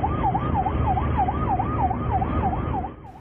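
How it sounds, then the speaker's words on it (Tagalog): A Long Range Acoustic Device sonic weapon used by a Chinese vessel at sea, blaring a loud, piercing warbling tone that sweeps rapidly up and down in a steady repeating cycle before cutting off near the end. "Ang LRAD ay isang uri ng nakabibinging aparato."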